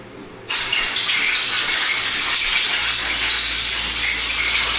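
Engine parts from a Subaru WRX forged engine build being sprayed off with water: a steady, loud hiss of spray that starts abruptly after a brief moment and continues unbroken.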